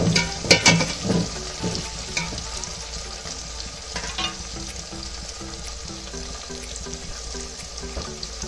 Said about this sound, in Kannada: ಈರುಳ್ಳಿ ಇವಾಗ ಸ್ವಲ್ಪ ಫ್ರೈ ಮಾಡ್ಕೊಳ್ತಾರೆ.